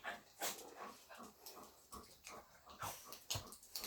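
Small dogs whimper and whine in short, uneven bursts close by, eager to go outside, with soft snuffling between cries.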